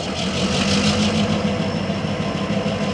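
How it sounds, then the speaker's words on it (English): A model locomotive sound unit gives a steady diesel engine drone as it throttles up before moving, holding continuous and fairly loud with no pauses and no voices. "it's like throttle up before it moves"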